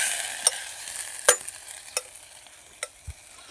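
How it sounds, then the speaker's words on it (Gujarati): Masala frying in a pot at a forest campsite, a steady hiss of sizzling oil punctuated by several sharp metallic scrapes and taps of a spoon stirring against the pot. "મસાલા ફ્રાય તો અમારા દીપકભાઈ જોરદાર ફ્રાય કરી દીધા છે"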